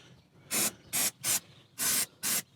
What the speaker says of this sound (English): What was it? Silicone spray.